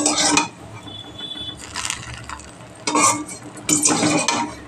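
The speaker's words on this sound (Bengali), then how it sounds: "ফোড়ন দিয়ে দিলাম ডালে।" Hot tempering goes into a pan of masoor dal with pumpkin and Malabar spinach stems, making several short, sharp bursts of sizzling and metal stirring clatter separated by quieter gaps.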